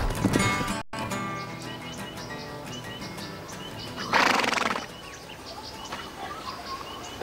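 Wild brumby horses in the Tinderry Range of Australia, with one clear neigh rising near the middle of the recording over a background of outdoor ambience and faint birdsong.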